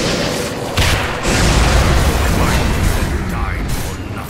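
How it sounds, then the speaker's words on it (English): A Dota 2 tower collapses in a heavy rumbling boom, dense crumbling noise swelling after a sharp onset and sustaining for several seconds amid busy game effects. "Radiant's bottom tower has fallen."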